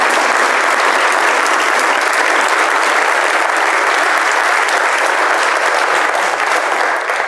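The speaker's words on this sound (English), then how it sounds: "please give an applaud to South Africa" A packed hall at a speech event erupts in loud, continuous clapping that stays even and unbroken from start to finish, with no talk over it.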